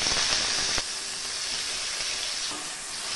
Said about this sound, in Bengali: তেল গরম হয়ে গেলে গোটা জিরে ফোড়ন দিয়ে দেব কুচি করে রাখা পেঁয়াজ।